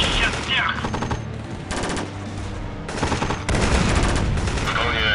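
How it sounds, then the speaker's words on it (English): Video game gunfire in Warfare Reloaded: dense bursts of automatic fire and scattered shots pile into a loud, continuous battle din, with a player's voice talking under it. "now shoot this building"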